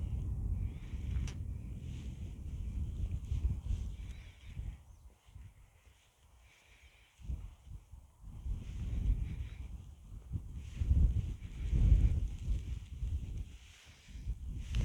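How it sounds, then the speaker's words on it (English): Gusty wind buffets the microphone in low rumbling surges that rise and fall, loud and close, with brief calmer moments between gusts. "again very windy day."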